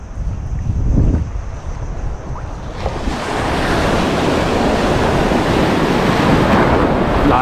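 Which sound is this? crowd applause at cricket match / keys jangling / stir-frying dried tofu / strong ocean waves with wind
strong ocean waves with wind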